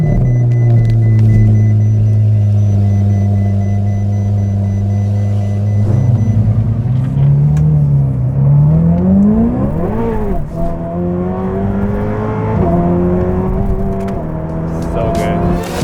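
Ferrari 488 Pista engine cold start, a loud steady high idle that settles lower and then blips into a sharp rev before easing back to a rumbling idle, heard close up.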